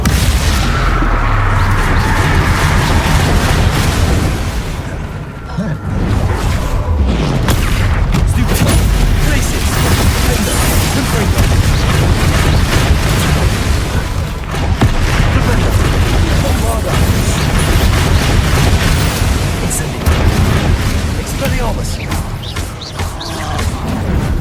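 Bombarda explosions go off in the Hogwarts Legacy video game, loud and close. Heavy booms and blasts repeat over a long noisy stretch of combat, with voices talking at times among them.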